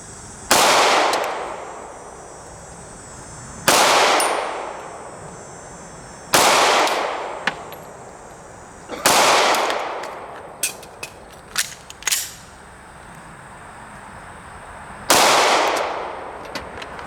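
Sharp, loud pistol shots from an S&W M&P 2.0 Compact fired at a target 10 yards away on a range, each a single crack with a short tail, spaced a few seconds apart, with a couple of fainter clicks in between.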